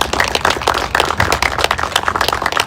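Mourners at a sheriff's department memorial service for a K-9 police dog give a loud, dense round of applause, many hands clapping steadily and close by with little else heard.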